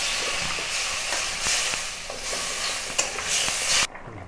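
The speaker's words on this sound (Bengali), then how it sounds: "এবার জল দিয়ে দিচ্ছি।" Water goes into a hot pan of omelet curry, giving a loud, rushing hiss and bubbling with a few scraping stirs that cuts off suddenly near the end.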